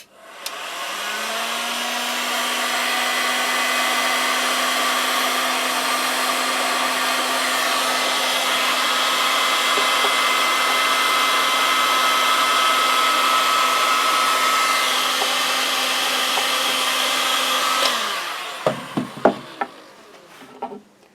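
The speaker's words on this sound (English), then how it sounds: "So we're just starting with our heat gun here, and we'll just see how the paint starts to react to this." A heat gun stripping paint from a Watkins Rapier 33 sailboat hull runs with a steady, loud fan whine and airflow hiss for about eighteen seconds, then shuts off, leaving a few scraping knocks.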